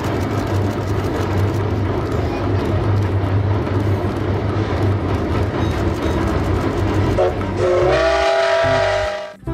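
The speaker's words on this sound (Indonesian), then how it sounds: "ada kereta api" A train rumbles past close by, a loud steady clatter of wheels, before a horn blares out near the end.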